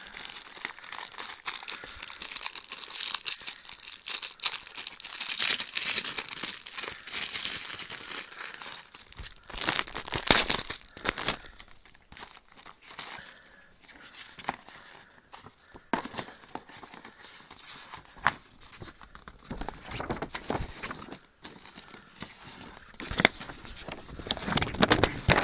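Product packaging for a First Strike set being opened by one hand, with long stretches of close crinkling, rustling and tearing and some intermittent handling noises.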